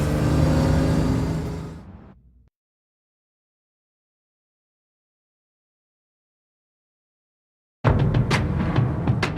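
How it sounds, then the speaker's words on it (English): A Nissan Z sports car revs its engine loudly in an empty parking lot, fading out after about two seconds, then after a long silence it returns close by with a strong, steady engine roar. "Start hearing the car maybe before we start seeing the car."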